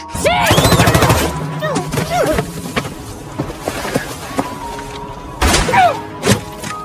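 Soldier firing at Joel and Sarah in The Last of Us video game: several loud, sharp gunshot bursts at the start and again near the end, with thuds and shattering debris and scattered game voices in between.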